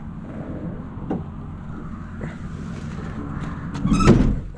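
The hood of a 2025 Kenworth T880 truck eases shut on its shock and closes with a soft thunk near the end. Quieter clunks and rustles come before it, and a faint low hum runs underneath.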